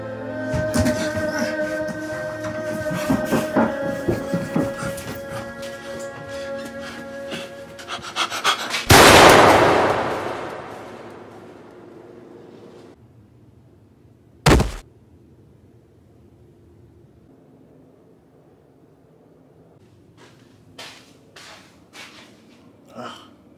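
Two sharp, heavy gunshots ring out in an anime scene, a few seconds apart, following a stretch of voices and music, with only faint thuds trailing after.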